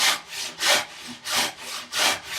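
A panel saw cuts a wooden tenon cheek in four even, rhythmic rasping strokes, close and clear, with short pauses between pushes.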